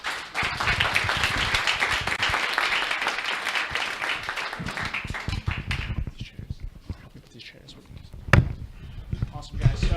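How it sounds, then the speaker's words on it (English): An audience applauds at the close of a talk at a media landscape event, with a sustained round of clapping that fades out after several seconds, then scattered sounds and a voice speaking. "Everyone give Alan another round of applause."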